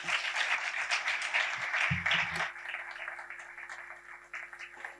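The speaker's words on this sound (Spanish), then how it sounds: "recibir a nuestro conferenciante con un fuerte aplauso" Applause from a lecture audience in a botanical garden hall, welcoming a speaker to a talk on the Cordovila salt marsh; broad steady clapping fills the first half and fades toward the end.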